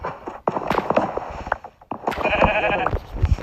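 Sheep bleat repeatedly in Minecraft, several short wavering calls close by, with faint footstep-like clatter between them.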